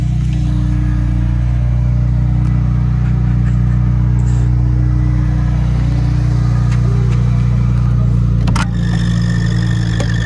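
A loud modified Audi car pulls up with a deep, steady engine drone and heavy low rumble held throughout, close by, with a brief clunk near the end.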